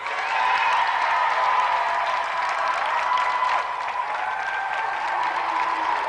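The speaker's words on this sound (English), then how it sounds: "So let's give another round of applause for two brilliant competitors, Andy Thomas and Jim McIver." Studio audience at a video game show applauds in a sustained, even wash of clapping, fairly distant and continuous, with little talk over it.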